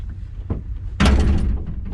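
The cab door of a Hyundai excavator being opened after shutdown: a soft click of the latch, then a loud, close metallic thunk and a swoosh as the door swings open, with no one speaking.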